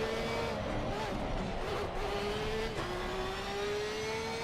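Porsche race car engine in a sim racing game at Zandvoort drones steadily and loud throughout, its pitch rising in long gear pulls with a brief dip near the end, with a faint voice underneath.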